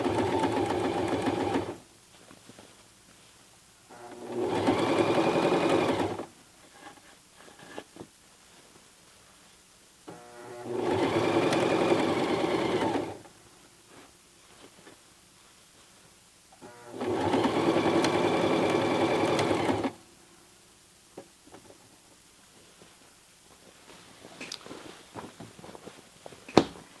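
A Toyota FSG325 sewing machine stitching a jeans hem runs in three steady, loud whirring bursts of a few seconds each, separated by quiet pauses with faint handling clicks.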